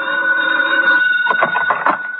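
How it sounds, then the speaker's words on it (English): A telephone rings in an old-time radio detective drama, a steady bright electric ring sounding twice in close succession, fairly loud and alone with no talking. "the phone rang"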